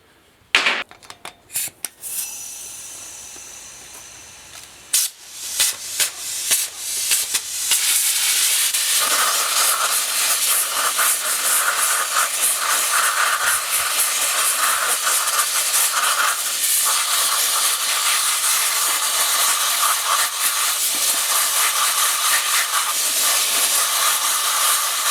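Loud, continuous hissing from a sandblaster blasting 2-inch steel casters. It opens with a few short bursts and sputters, then settles into a steady roar that runs uninterrupted.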